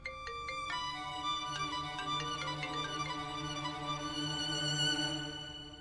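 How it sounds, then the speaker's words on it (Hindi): A phone rings with an incoming call, a melodic electronic ringtone of repeating tonal notes playing steadily and fairly softly, with no talk over it. "दोबारा कॉल आ रही है उसकी"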